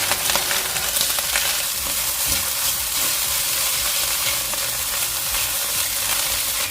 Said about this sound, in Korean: 볶은 재료와 계란 스크램블을 넣고 센 불에서 다같이 볶아주세요.